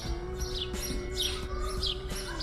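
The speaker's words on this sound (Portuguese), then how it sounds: "Os passarinhos." Small birds chirp outdoors in a residential neighbourhood, faint, repeated short tweets scattered over a steady hum of background noise.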